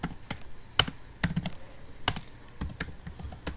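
Typing on a computer keyboard, a few scattered close key taps and clicks at an irregular pace, quiet and alone with no talk.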